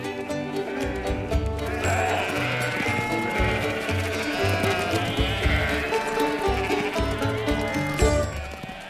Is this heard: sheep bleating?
yes